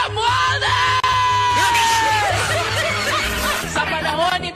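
Political rally crowd in the Philippines cheering, whooping and shouting loudly and continuously for an introduced congressional speaker, with dense massed voices and some laughter throughout.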